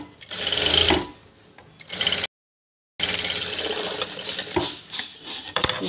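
Domestic sewing machine stitching a turned seam on a princess-cut blouse, running in loud mechanical bursts with brief pauses and a short dead gap midway, close up with no talking.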